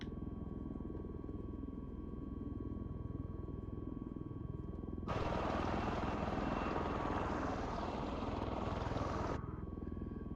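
A helicopter flies in a video game, its engine a steady droning hum that abruptly swells into a louder, brighter whirring roar midway, then cuts back to the quieter drone.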